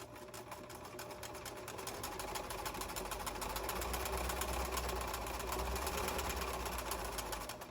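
A sewing machine runs continuously at a slow, steady pace stitching a garden pouf, its rapid mechanical whir close and even, building slightly louder midway, with no talking.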